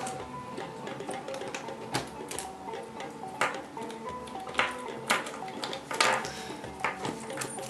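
A multi-layer bicycle lock being fastened by hand, with a busy run of metallic clicks, rattles and clacks at close range, some sharper snaps standing out, and no talking.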